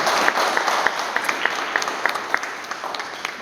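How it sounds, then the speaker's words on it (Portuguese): Applause from a forum audience saluting Cuba, a steady wash of many hands clapping with a few sharper individual claps standing out, continuous and fairly loud throughout. "por isso é que eu queria pedir mais uma salva de palmas a Cuba."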